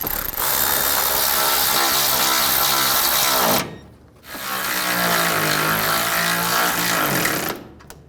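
A power tool drives bolts home while a drive belt kit goes onto a 2011-2014 Chrysler 200, in two loud, sustained rattling bursts of about three and a half seconds each, split by a brief pause.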